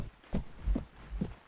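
Horses in the Mount & Blade Warband video game give three distinct, evenly spaced hoof clops, close and fairly soft, with no voices.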